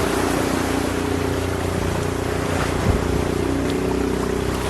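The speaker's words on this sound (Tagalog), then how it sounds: "Sobrang lakas ng alon." Strong ocean waves heard as a dense, loud roar of surf and wind buffeting the microphone, constant throughout with a brief surge near the middle.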